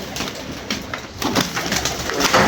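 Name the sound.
pigeon cooing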